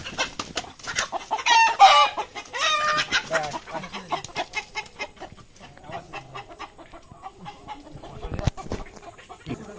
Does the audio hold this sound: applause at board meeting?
no